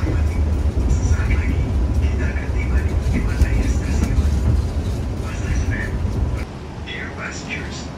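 A Gumarang economy train runs on the rails into Pasar Senen station in Jakarta, its steady low rumble and rolling wheel noise continuous with occasional squeals, fading lower near the end.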